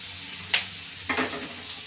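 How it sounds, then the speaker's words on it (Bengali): Tomatoes dropped into a hot frying pan for a home cooking dish, giving two short bursts of sizzling and stirring, the louder one near the start and another a moment later, close and clear. "এখন টমেটোটাও দিয়ে দিই।"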